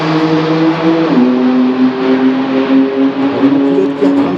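An Alpine A110S sports car on a race track gives a loud, steady engine drone that drops in pitch once, as at a gear change, then holds a sustained tone throughout, with no talking.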